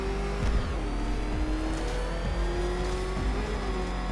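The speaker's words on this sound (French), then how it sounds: "Est-ce que ce vieux moteur peut supporter ça?" Batmobile engine in Batman: Arkham Knight revving hard and steadily, a loud continuous roar with rising pitch sweeps and low rumble, alone without talk.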